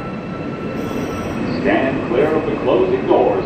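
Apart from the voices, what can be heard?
R160A E subway train riding, NYC MTA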